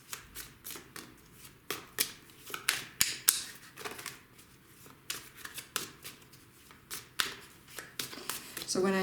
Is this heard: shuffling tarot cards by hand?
yes